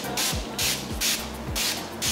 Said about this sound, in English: I'm gonna spray this in my hair